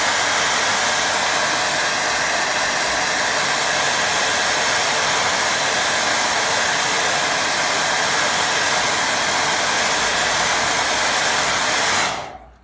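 A hair dryer blasts steadily over a drying watercolour painting of a house, shed and lake, a loud, unbroken rushing roar that holds for several seconds before cutting off abruptly.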